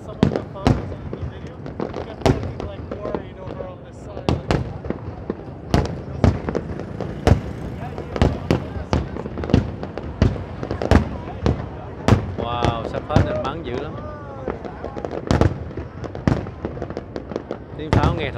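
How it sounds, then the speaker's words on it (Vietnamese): Fireworks for the Tet 2020 Lunar New Year burst in rapid, irregular sharp cracks and bangs for the whole stretch, some close and loud, with a person talking and other voices heard between the blasts. "Tiếng pháo nghe thật là vui tai không các bạn."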